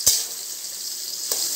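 Onion and chilli fry in hot oil with a steady close hiss of sizzling, marked by two short clinks of a utensil against the pan.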